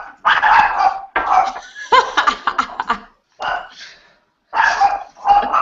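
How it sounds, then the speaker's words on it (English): A dog barking in short repeated bursts close by indoors, mixed with laughter and voices talking. "We've also got a puppy with us, or a dog with us"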